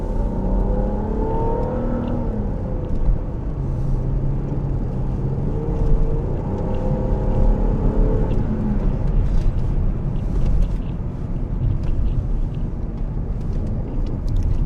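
A 2008 Volvo V70 T6 accelerates, its engine rising in a strong, continuous drone and whir heard from inside the car, with steady road noise underneath.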